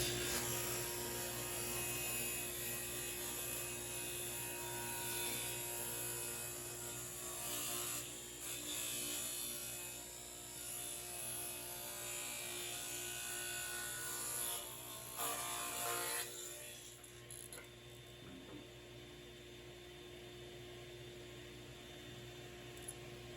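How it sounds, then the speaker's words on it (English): A power tool cutting a 45-degree bevel along a wooden back plate, a loud steady whining buzz close by that drops off near the end, no talk. "And let's put a 45-degree bevel on that back plate."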